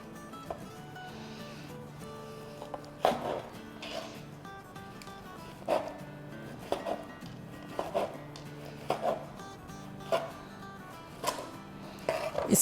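A knife slicing a loaf of bread weighing about a pound into pieces, with a series of regular, moderately spaced cutting thuds against a board in a quiet kitchen.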